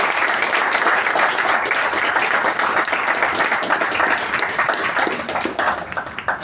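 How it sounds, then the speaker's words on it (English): An audience at a Toastmasters club meeting applauds, with steady, dense clapping that continues for several seconds and tapers a little toward the end. "Can we give them a round of applause?"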